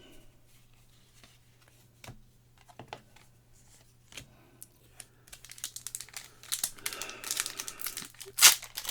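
Flesh and Blood trading card packs from an Arcane Rising box are torn open and handled, a quiet run of crinkling foil and paper rustles that grows busier and louder toward the end, with a faint steady hum underneath.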